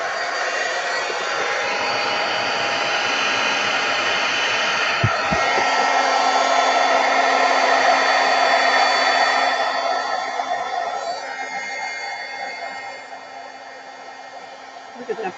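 A heat embossing tool blows steadily and loudly, hissing continuously for the whole stretch, its pitch shifting slightly midway before easing off toward the end.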